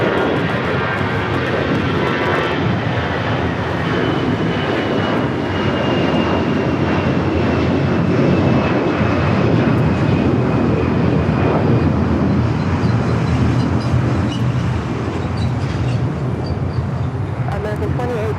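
A loud, steady jet roar from an American Airlines plane fills the air at Los Angeles International Airport, holding constant throughout with faint radio voices beneath it.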